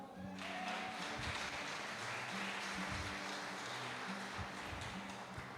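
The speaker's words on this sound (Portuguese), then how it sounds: "Dê um aplauso para o Senhor." A church congregation applauds continuously, a dense and steady wash of clapping that stays at even loudness throughout, with no voices over it.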